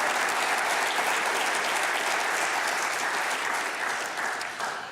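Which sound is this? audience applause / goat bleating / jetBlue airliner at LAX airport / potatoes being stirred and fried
audience applause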